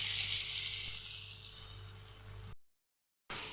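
Onion and an egg with salt and turmeric fry in refined oil, a steady close sizzle that fades gradually and then breaks off into a short silence before resuming briefly.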